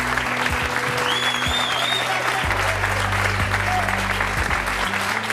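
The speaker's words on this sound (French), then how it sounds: "Je vous demande d'applaudir David Sibony." A studio audience applauds steadily at a French television show, dense clapping filling the room throughout, with a low hum and faint music tones underneath.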